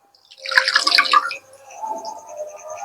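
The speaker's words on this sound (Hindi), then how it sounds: "ये जो कटोरी का पानी है, इसको भी इसमें डाल देते हैं" Water from a bowl is poured into a beaker, a short close splashing burst of liquid followed by a quieter trickle that lingers on alone.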